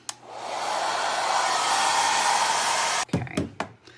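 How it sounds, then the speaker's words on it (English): A blow dryer roars steadily for about three seconds, loud and close with a broad airy hiss, then cuts off, leaving a few brief handling knocks. "And then turn on my blow dryer."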